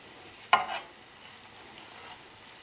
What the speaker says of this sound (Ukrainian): обсмажую усі картопляники